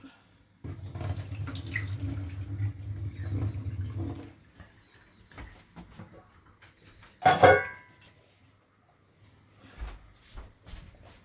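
Tap water runs into a sink while green beans are washed under it, a steady splashing rush for a few seconds, followed by a sharp clatter of a pan or dish and quieter intermittent knocks.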